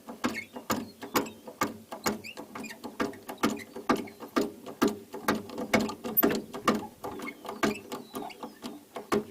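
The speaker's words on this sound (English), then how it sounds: "Just jacking another tire off the ground so that way I can rotate this." A jack ratchets steadily to raise the tire of an Arctic Cat H1 650 ATV off the ground, giving a close, even series of mechanical clicks with no talking.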